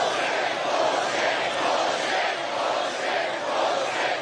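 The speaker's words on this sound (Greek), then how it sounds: "Με το πλήθος να κάνει σύνθημα τη λέξη" A large crowd at a Trump rally chants a single word in a steady, rhythmic pulse, the massed voices swelling and falling together in a continuous roar.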